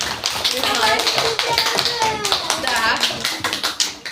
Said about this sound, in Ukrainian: Аплодисменти, оплески.